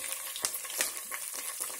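Curry leaves crackle and sizzle in hot oil for a Chettinad pepper chicken tempering, a steady close frying hiss broken by a few sharper pops, with no voices.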